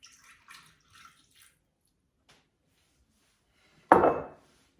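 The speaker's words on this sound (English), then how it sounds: "120 grams of milk straight into the Thermomix." Milk pours into a Thermomix in one short, splashy gush near the end, after a few faint knocks and near silence.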